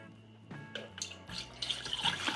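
Water poured into a Pinter home brewing vessel, splashing and trickling in uneven bursts that grow busier and louder as the filling continues, close up with no speech.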